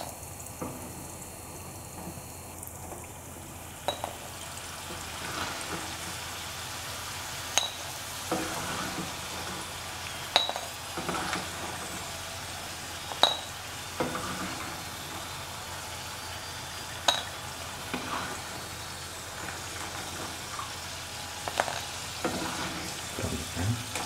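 Steady crackling sizzle of taro root pieces frying in hot oil, with occasional sharper pops and clinks throughout, close and moderately loud.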